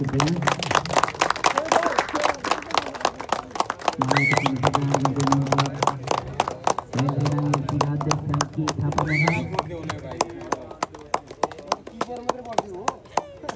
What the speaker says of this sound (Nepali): जोरदार ताली दिइदिनु होला।